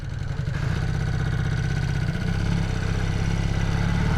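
A rebuilt Honda CB250 Super Dream motorcycle engine pulls in first gear, a steady close-up mid-pitched drone with a rhythmic, slightly clattery pulse that shifts and rises partway through, with no talking.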